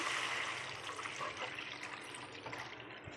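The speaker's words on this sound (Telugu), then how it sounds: "ఇప్పుడు వాటర్ పోసుకోవాలి" Water pours steadily into a pan of softened vegetables for rava upma in a continuous splashing rush, close and fairly loud, lasting a few seconds without pause.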